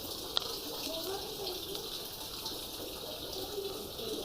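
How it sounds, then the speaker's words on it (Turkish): Water runs steadily off a house roof in Erzurum and pours to the ground below, a constant close splashing gush that holds at an even level throughout. "Şu evin çatısından akıyor aşağıya su."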